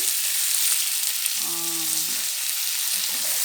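Prawns sizzling in a hot pan for spicy garlic prawns, a steady loud frying hiss throughout, with a brief tonal clink partway through.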